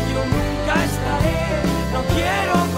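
The song by a band from Burgos plays as the theme of La Vuelta: a full band mix, dense and steady, with strong low end and repeated chord changes, loud and with no talk over it.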